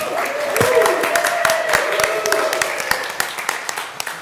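An audience at a church annual meeting applauds Deacon Linda, a lively burst of clapping with voices in the crowd, thinning into a few separate claps toward the end.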